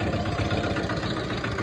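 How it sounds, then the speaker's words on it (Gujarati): A tractor engine runs steadily while driving and towing a loaded trailer on a farm, a close, even, low rumbling drone with no voices. "અત્યારે આપણે ટ્રેક્ટર ચલાવી રહ્યા છે"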